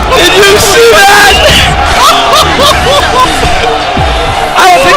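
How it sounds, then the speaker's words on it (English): A crowd at a varsity high school basketball game between DRS and Frisch roars and cheers loudly and continuously after a big play, with an excited announcer talking over the din. "The crowd is going nuts!"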